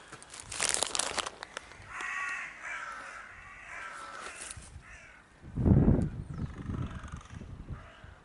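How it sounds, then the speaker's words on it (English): Several crows caw repeatedly outdoors in Leigh-on-Sea, harsh calls coming in bursts, some close and loud, others farther off. "At least the crows seem happy. They're up and making a lot of noise."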